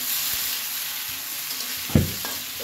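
Onions and potatoes frying in oil with a steady close hiss and sizzle, one brief louder clatter of a utensil stirring partway through, and no talking.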